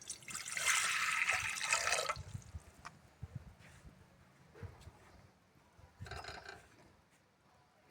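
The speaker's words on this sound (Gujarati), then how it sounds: "તો આપણે કારેલાને બાફવા માટે આપણે પાણી કુકરમાં નાખશું." Water poured into a pressure cooker for boiling bitter gourd, a loud steady splashing pour lasting about two seconds, then quieter knocks and handling, with a second shorter burst of pouring later.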